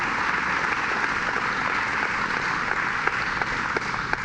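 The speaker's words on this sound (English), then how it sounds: "let's give them a round of applause" An audience applauds Senator O'Mara and Phil Palmisano at a state economic development announcement in Elmira, a dense, even wash of many hands clapping continuously at close range.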